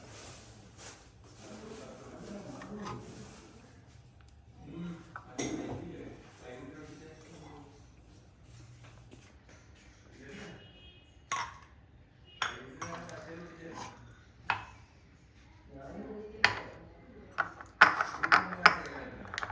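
Butter and sweetened condensed milk being stirred together in a bowl, with faint scraping and scattered clinks of a spoon against the dish that grow sharper and more frequent toward the end, while a person talks throughout.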